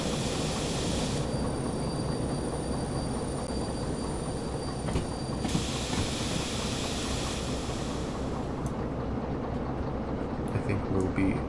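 Freight train braking in the Derail Valley simulator game, a long string of cars grinding and rumbling steadily with a hissing air-brake wash that cuts in and out, continuous and fairly loud throughout.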